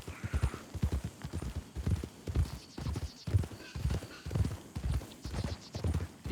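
Steady clip-clop of horse hooves trotting at a regular rhythm in a video game, fairly close, with no talking.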